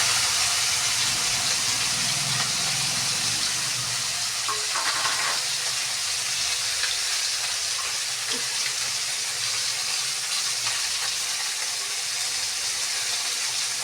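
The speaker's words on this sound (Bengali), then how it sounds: "চিংড়ি মাছটাকে একটু ভেজে নেবো" Prawns fry in a pan with a steady sizzling hiss, joined by a few faint clinks and scrapes of stirring, close but fairly soft and even throughout.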